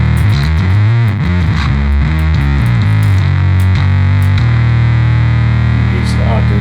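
A bass guitar runs through a fuzz pedal, playing a loud, heavily distorted riff of rhythmic notes that ends on a sustained, buzzing held note.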